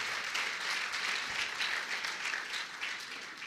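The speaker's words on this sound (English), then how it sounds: "Can we give a round of applause to Caroline?" A hotel ballroom audience applauding Caroline at an IDebate Rwanda tenth anniversary celebration in Kigali: a full, steady wash of many hands clapping, sustained and even, with no voices over it.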